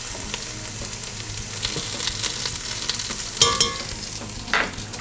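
Tomato paste sizzles in a hot pot with lobster stock ingredients while a spoon stirs and scrapes, a constant frying hiss broken by a few sharper scraping strokes near the end.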